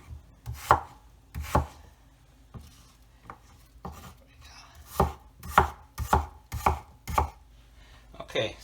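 A knife chops apples on a cutting board for a homemade apple cake, about a dozen crisp, uneven thuds, close and clear with quiet pauses between strokes.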